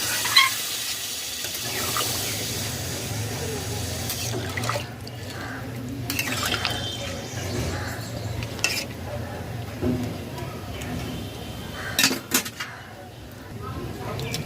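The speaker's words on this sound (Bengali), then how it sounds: "গরম জল অ্যাড করে দেব" Hot water poured into a simmering pot of vegetarian potato curry (aloo dum), a steady close-up splashing hiss lasting throughout with a few brief clinks, under intermittent talking.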